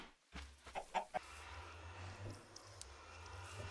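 Chickens in the Minecraft video game cluck in several quick, soft bursts early on, followed by a faint steady background hum and a few scattered quieter clucks.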